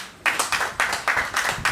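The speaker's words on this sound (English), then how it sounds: "Round of applause for the global president" A small group claps for the global president at a first-anniversary gathering, with several bursts of hand claps in an uneven rhythm, fairly close and alone, no voices.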